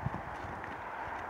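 Hooves of an unbroken young horse thud in a short run of soft steps during saddling, set against a steady broad background noise.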